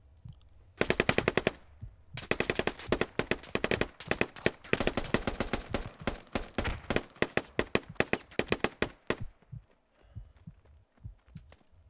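Automatic gunfire in the military shooter Squad: a short burst, then long strings of rapid shots that thin into scattered single cracks and fade, with no talking.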